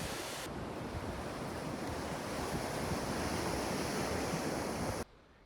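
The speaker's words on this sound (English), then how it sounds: "This breathtaking beach is located in the province of Barcelona" Waves wash onto Malgrat de Mar beach in the province of Barcelona, a constant roaring surf mixed with wind buffeting the microphone, cutting off abruptly near the end.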